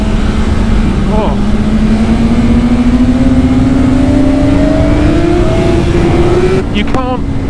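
A 2019 BMW S 1000 RR superbike engine accelerating on the road, a steady loud drone climbing slowly in pitch for several seconds before easing off, with a rider talking over it.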